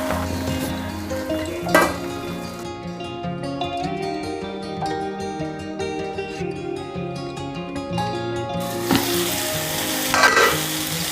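Gongura leaves fry in a pan for a pickle, giving a strong, continuous sizzle up close with some stirring, under steady tonal background music.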